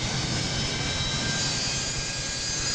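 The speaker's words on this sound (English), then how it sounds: "We have a normal engine start." An airliner's engines run steadily after a normal start, ready to taxi: a loud, continuous jet roar with a faint high whine, unbroken throughout.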